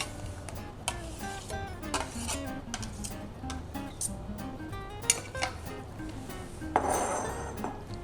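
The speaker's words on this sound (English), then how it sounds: "I will scrape back into the mold" A spatula scrapes a thickening chocolate mixture back into a mold, with light scrapes, clinks and taps of metal and dish, close and fairly quiet, without speech.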